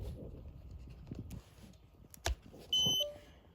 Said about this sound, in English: the green light came on, then a red light, and then it beeped.